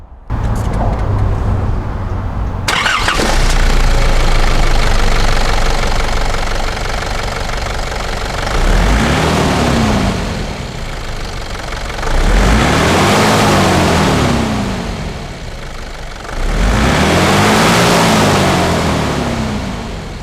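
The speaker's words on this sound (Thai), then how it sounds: "มาฟังเสียงเครื่องยนต์กัน" A Nissan Frontier D22 pickup truck engine idles loudly and close, then revs up several times in rising and falling surges over the steady rumble.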